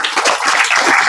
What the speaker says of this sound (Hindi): तो इसके लिए भी एक ताली बजा दो।